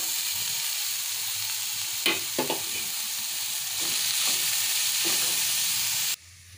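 Carrot and cauliflower sizzling as they fry in a pan with browned onions, a steady loud hiss throughout with a few soft stirring knocks, ending abruptly.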